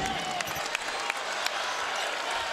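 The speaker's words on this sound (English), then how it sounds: "a big crowd here at the Prudential Center starting to get into it" Basketball arena crowd at the Prudential Center during a Marquette at Seton Hall game, a steady broad roar of cheering and applause with a few sharp claps and shouts rising out of it, continuous throughout.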